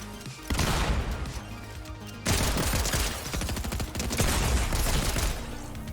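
A Mythic Pistol fired in a Fortnite Solo Cash Cup fight: loud rapid volleys of shots, starting abruptly, pausing briefly, then resuming in a dense, sustained burst with crashing impacts, no talk.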